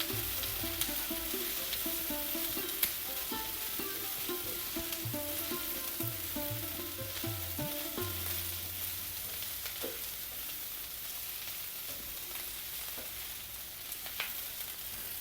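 Egg curry stirred in a hot pan with the gas switched off, soft steady sizzling under repeated spoon scrapes and clinks against the pan, with no one talking.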